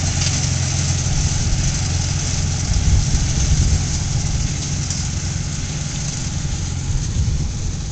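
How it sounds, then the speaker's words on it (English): A Farmall M tractor engine runs steadily while raking hay in a field. Its low, rumbling drone stays close and fairly loud, with no talk over it. "Farmall M, raking the hay today."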